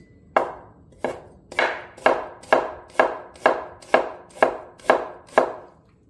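A knife thinly slicing fresh, skin-on ginger on a cutting board, about ten crisp, evenly spaced chops, each a sharp close tap with a short fading tail, with no talking.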